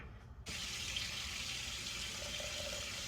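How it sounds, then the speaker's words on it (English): Water poured from a container over old-fashioned rolled oats in a bowl while making apple cinnamon pancake batter: a steady, close, continuous splashing pour that begins after a brief quiet moment and runs unbroken to the end. "So I'm gonna pour my 3 cups of water over it."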